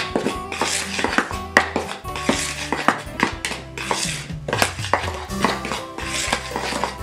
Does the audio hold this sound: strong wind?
no